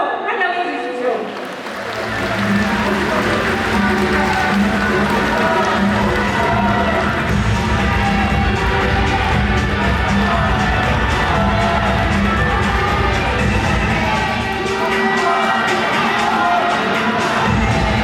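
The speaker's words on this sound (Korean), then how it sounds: "기호 3번 정경호 후보를 큰 박수로 환영해 주십시오." A crowd at a political party national convention in a large hall cheers and applauds a candidate's entrance, a sustained loud roar of clapping and shouts that swells after a brief quiet start, with talk mixed in.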